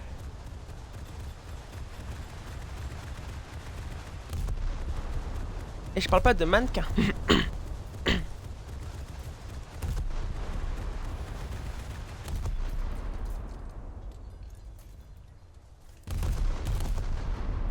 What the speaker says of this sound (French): Par contre, t'as des giga canons